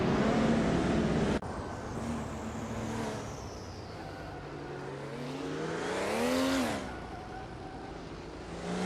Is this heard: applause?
no